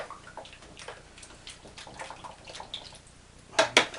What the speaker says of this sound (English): I'm actually dropping it into the fixer